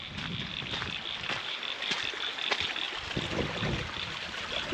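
A creek near a vehicle crossing in the Brindabella Ranges flows with a soft, continuous trickle and gurgle, fairly quiet and close, with a few faint knocks and no talking.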